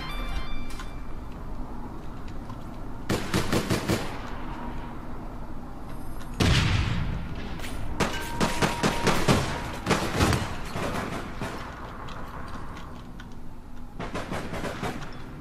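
Bursts of gunfire from the online shooter APB Reloaded, with rapid volleys of sharp shots around 3–4, 6.5–11 and 14–15 seconds, loud and close over a steady game background hum.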